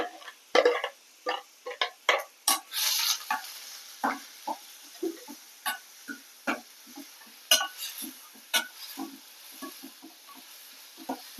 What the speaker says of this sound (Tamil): நல்லா வதக்கிக்கோங்க வெங்காயத்தை.